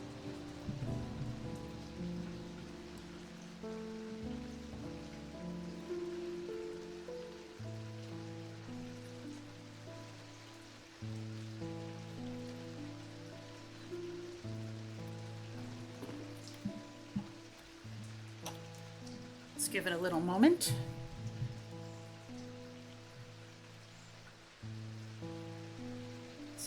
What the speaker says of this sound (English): this rain sound, would have put all viewers to sleep by now